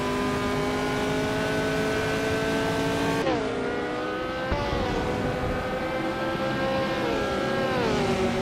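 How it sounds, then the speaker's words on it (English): A 1966 McLaren M10A race car engine roars steadily at high revs throughout, with pitch drops at gear changes and a falling tone near the end as it moves past, loud and close. "Ian Crusoe Woodencross is driving a 1966 McLaren M10A"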